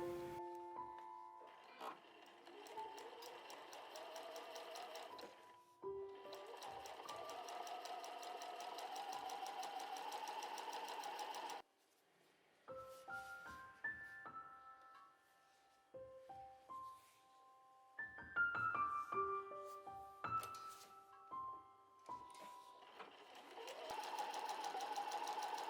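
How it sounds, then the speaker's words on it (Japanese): A sewing machine stitches fabric to the edge of quilt batting for a cube bag, its rapid mechanical whirring coming in long runs broken by short pauses and restarts, close and clear, with no talking. "順番にキルト綿の端まで布を縫います。"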